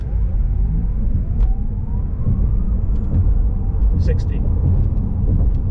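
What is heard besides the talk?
Porsche Taycan 4S electric car accelerating with launch control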